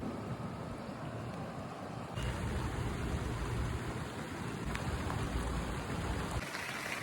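Steady rain on a South Florida morning during thunderstorm season, a dense continuous hiss of falling water that swells louder partway through and holds, with no talking.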